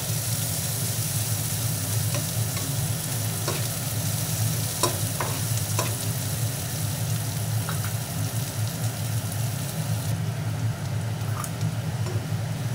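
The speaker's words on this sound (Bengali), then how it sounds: "পেঁয়াজটা হালকা করে একটু ভেজে নিব।" Chopped onion sizzles and fries steadily in a pan, a constant close hiss with occasional stirring clicks and scrapes throughout, no talking.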